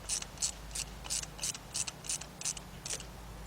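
Ratchet wrench turning a 10 mm bolt on a Trailblazer-type engine during valve cover gasket work, about nine quick regular clicking strokes, close and fairly quiet over a low hum.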